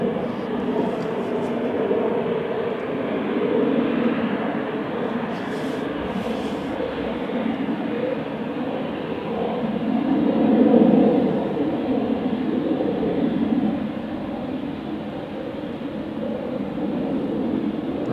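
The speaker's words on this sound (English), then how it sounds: "the Embraer 195, the E2." An Embraer 195 E2 jet landing on the Polderbaan runway at Amsterdam Schiphol gives a steady, broad roar and rumble that swells to a peak near the middle and then eases, with no talking.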